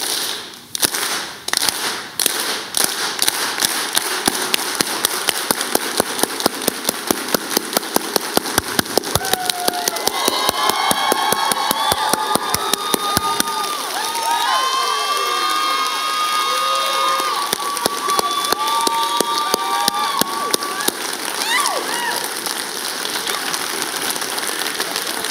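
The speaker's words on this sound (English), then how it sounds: "let's end with a little solidarity clap to show some solidarity for racial justice" An audience claps and cheers in solidarity at the close of a talk, starting with a rhythmic clap that swells into loud applause, whoops and shouting voices across the crowd.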